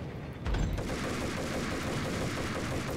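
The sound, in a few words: Beretta pistol gunfire in video game Max Payne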